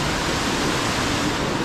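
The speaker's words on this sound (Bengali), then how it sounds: "জাস্ট দেখো ঝর্ণাটা পড়ছে।" Banjhakri Falls near Gangtok pours in a constant, full-bodied roar of falling water, close and steady with no pauses or other sounds.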